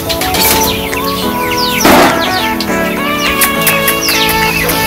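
Pigeons released from a coop burst out with wing flapping and a clatter amid busy chirping birds, with loud, dense calls filling the space.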